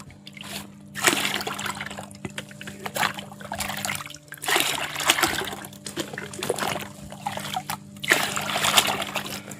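Adenium fertilizer solution being stirred and mixed in water, repeated sloshing and splashing bursts in uneven waves over a low steady hum, close by with no talking.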